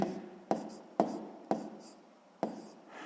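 A pen or pencil writes out a sixth-grade math solution by hand on paper, with short scratchy strokes starting about every half second, close and quiet, with no talk.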